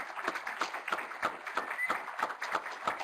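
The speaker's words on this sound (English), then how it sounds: "Let's give them a big round of applause," A room of people at a lunar science forum's student poster awards claps in a brisk, regular beat, dense and moderately loud, with a soft wash of scattered clapping underneath.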